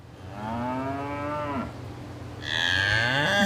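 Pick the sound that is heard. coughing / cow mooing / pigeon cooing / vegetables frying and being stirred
cow mooing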